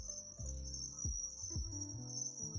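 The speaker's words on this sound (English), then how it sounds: "Something is squeaking." A Mazda Miata gives off a thin, steady high-pitched squeak just after starting, over a low pulsing engine rumble with repeated rising and falling tones.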